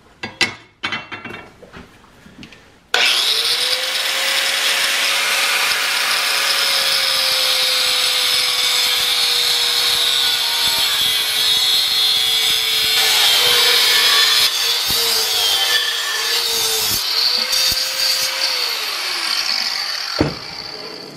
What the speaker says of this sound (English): I'm going to try a 4-inch grinder to cut some of this up and see what happens